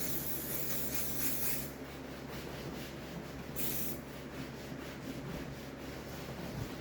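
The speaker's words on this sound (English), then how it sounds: "Brake cleaner, and I'm gonna clean the glue off the table." A can of brake cleaner hisses in bursts, then a cloth rubs and wipes glue off a work table during a Triumph Spitfire seat cover change, a steady close scrubbing texture with no talk.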